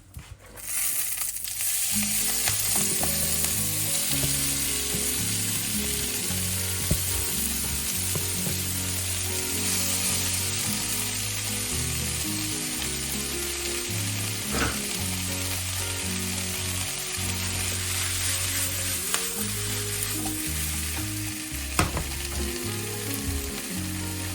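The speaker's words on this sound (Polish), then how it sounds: "Na tym samym masełku smażę szpinak." Steady, close sizzling of spinach frying in butter in a hot pan, with occasional stirring scrapes, continuous for the whole stretch with no talking.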